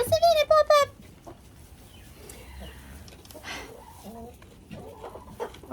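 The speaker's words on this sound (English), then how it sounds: "Oh yeah, the chickens." Chickens clucking in a farmyard, a burst of rapid, close clucks at the start followed by softer scattered clucks and background sounds, with people talking.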